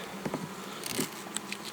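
Honey bees on a hive frame hum in a steady close buzz, with a few faint taps and rustles over it.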